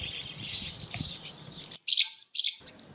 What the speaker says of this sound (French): ça c'est les choucas